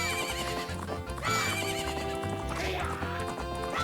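A horse in the video game Majora's Mask neighs with a loud whinny while its hooves clip-clop in a fast gallop, all under steady game music and without talk.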